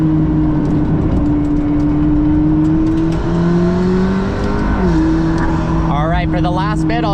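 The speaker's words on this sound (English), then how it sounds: "I'll just let you listen to the awesome sounds of the P1." McLaren P1 hypercar engine at speed from inside the cabin, a loud steady drone with a rising and falling pitch as the car accelerates and shifts, and a voice speaking over it toward the end.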